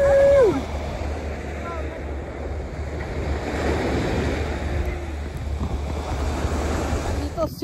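Surf washes steadily onto a beach while wind buffets the microphone in a constant, loud roar, with a faint voice heard briefly at the start.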